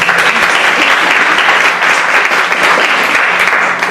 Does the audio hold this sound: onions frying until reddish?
no